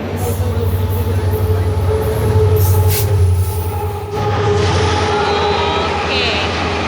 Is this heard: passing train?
yes